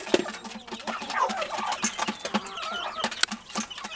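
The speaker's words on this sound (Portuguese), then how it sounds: "Esses aqui tudo, é os franguinhos, ó." Young chickens on a farm cluck and peep in quick, overlapping bursts, close by and fairly loud, with light rustling from the flock.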